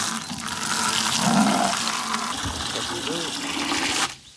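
Water gushes steadily from a bucket into the tank of a Ryobi 18V ONE+ misting fan outdoors, a continuous pouring rush lasting about four seconds before cutting off abruptly.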